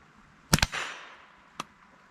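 A .22 LR Sears Model 25 rifle firing: two sharp reports in quick succession with a short ringing tail, then a fainter single click or pop about a second later, close and quiet otherwise.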